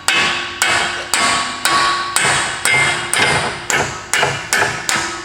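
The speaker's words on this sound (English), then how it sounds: "need to use my hammer." A hammer taps out a CV axle shaft, about eleven sharp metallic blows in an even rhythm, each ringing briefly before the next, close and loud with no talk.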